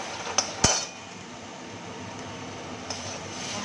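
Masala being stirred and fried in a pan, a soft continuous sizzle broken by a few sharp metallic clinks of the spoon against the pan, with no talking.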